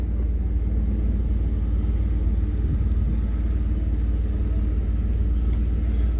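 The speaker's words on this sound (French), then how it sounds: "C'est le circuit de Formule 1 dans les pits, les puits." Formula 1 cars idle in the pit lane of a circuit, giving off a heavy, continuous low rumble that stays steady and fairly loud.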